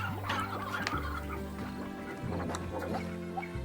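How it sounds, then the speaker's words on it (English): Hens clucking in the video game Slime Rancher, a steady chorus of overlapping fowl clucks and chatter over a continuous tonal game music bed, fairly faint and without speech. "I'm going to get some hens"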